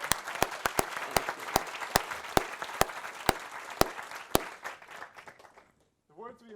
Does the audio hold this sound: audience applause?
yes